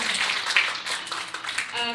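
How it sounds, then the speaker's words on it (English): Audience applause sounds for Deborah at a baby shower event, a moderate, fairly soft patter of many hands with voices mixed in. "A round of applause to Deborah."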